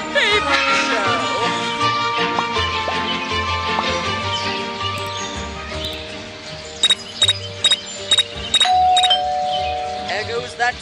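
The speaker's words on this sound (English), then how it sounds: "There goes that stupid bell again." A doorbell rings in the Scary Teacher 3D video game, several bright chiming dings in the second half, following a stretch of game music and talk.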